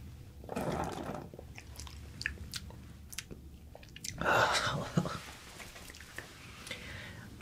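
Close-up tasting of a pink bubble gum flavored syrup drink: soft wet mouth sounds, sips and chewing-like smacks in two denser bursts with quiet clicks between, intimate and near.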